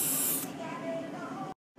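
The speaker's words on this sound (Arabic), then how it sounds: "برش هير سبراي وخليه ينشف شوية" Hair spray blasts from an aerosol can onto an ink stain on white clothing, a steady close hiss lasting about a second and a half before cutting off abruptly.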